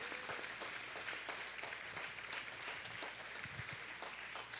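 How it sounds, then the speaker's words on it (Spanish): Church congregation applauding during a Spanish-language sermon: a steady, dense wash of many hands clapping together, fairly faint and slightly distant, continuing evenly throughout with no voices on top. "denles un aplauso, por favor"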